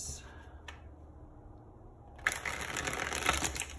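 Tarot cards are shuffled close to the microphone in a burst of rapid riffling and clicking that follows a quieter stretch, with a voice speaking beforehand.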